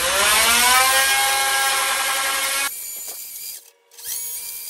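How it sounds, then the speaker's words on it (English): A Dremel-type multi-rotary tool with a cutoff wheel and 90-degree attachment cutting a tunnel access opening on an RV-10 aircraft fuselage; a loud, steady, high-pitched whine that drops to a quieter whir, stops briefly, then spins up again. "So I'm gonna stick with the cutoff wheel and my 90 degree on the Dremel."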